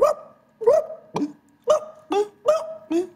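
A man vocally imitates a thirsty Kabyle dog that has not eaten in a long time, giving six or seven rough, yelping barks in a loose rhythm with short gaps between them, close and loud.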